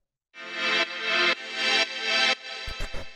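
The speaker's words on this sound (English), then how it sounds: "then we have this vintage string, which sounds like this" A vintage string synth patch plays sustained chords in a disco house track, with four bright held swells followed by a short choppy stutter at the end.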